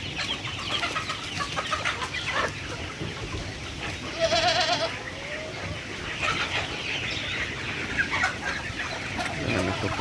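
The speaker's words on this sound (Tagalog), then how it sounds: "Nagpapakain na si Arvin ng manok" Chickens being fed on a small farm cluck and cackle at close range, with one rooster-like call standing out in the middle among scattered farmyard noise.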